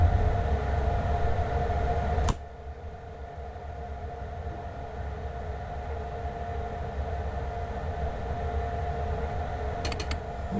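An IC train hauled by a BR 101 electric locomotive rolls along in Train Sim World 4, a steady mechanical hum and low rumble with a sharp click near the start and brief clatter near the end.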